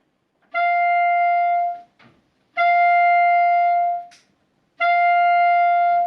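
Three sustained clarinet notes, each started with a crisp tongued attack, separated by short pauses and small breath or key noises.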